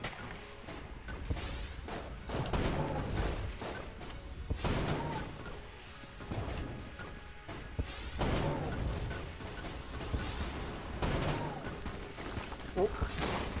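Gunfire from the serious cannon in the game Enter the Gungeon, booming in repeated heavy shots with a mechanical clatter and crashes under a dense, loud game mix.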